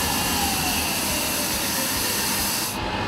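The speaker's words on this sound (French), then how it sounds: "quand il y a des jets de froid qui arrivent comme ça" Loud, steady rush of cold air jets blasting inside a cryotherapy chamber at minus 140 degrees, a dense broadband hiss that holds continuously and drops off slightly near the end, with no voices.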